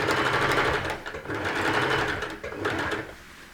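A sewing machine stitches the seam of a sequin tote bag with a steady close-up whirring hum, briefly slowing twice as it goes backwards and forwards, with no voices over it.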